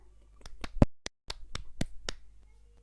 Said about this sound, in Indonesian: Mari kita beri aplaus untuk semuanya